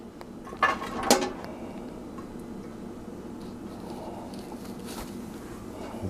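Metal pot lid handled on a cooking pot: two quick clanks and rattles near the start, then a low, steady background hum with faint ticks and no talking.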